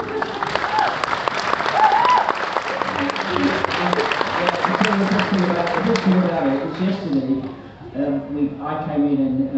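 Applause from an audience of a crowd, dense and steady for most of the stretch, fading into scattered clapping as voices and chatter rise over it toward the end.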